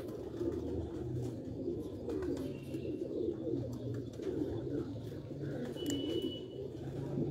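Sialkoti pigeons coo continuously in low, throaty murmurs, a dense flock sound with occasional faint chirps and rustling over steady background noise.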